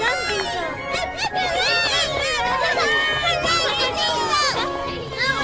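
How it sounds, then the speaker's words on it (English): A crowd of children cheering and shouting hooray in an animated Thomas-style story with Class 08 diesels, dense excited voices and chatter running continuously and loud. "Diesel heard the children cheer."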